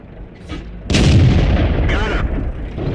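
Tank cannon firing in the World of Tanks video game: a single loud, heavy boom with a sharp onset and a rumbling tail, followed by a brief mechanical rattle.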